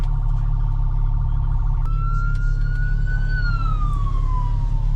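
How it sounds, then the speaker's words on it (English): Emergency vehicle siren wailing in a steady tone that shifts pitch as it passes nearby, heard over constant loud road and engine rumble from inside a car, with no talk. "I'm hearing sirens, hang on."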